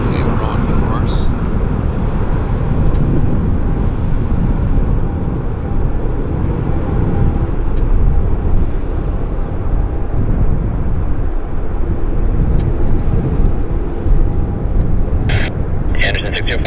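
A heavy aircraft on approach at Vancouver YVR airport makes a loud, continuous rumbling roar that goes on steadily throughout, with voices talking over it at times.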